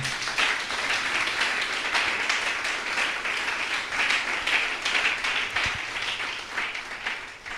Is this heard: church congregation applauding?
yes